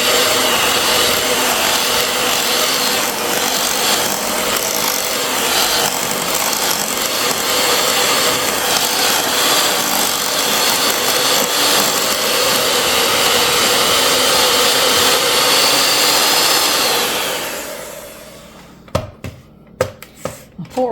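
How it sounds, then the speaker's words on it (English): A Betty Crocker hand mixer whirs steadily, loud and close, as it beats pimento cheese made with Blue Plate mayonnaise. The motor cuts off near the end, leaving a few brief clacks. "Poor old Betty Crocker hand mixer. She has been around forever. But she still does the job."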